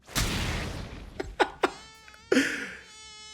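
A mosquito buzzes in the One Punch Man anime, a thin whine that rises and falls, broken by several sharp slap-like hits and a final louder impact, with no talking.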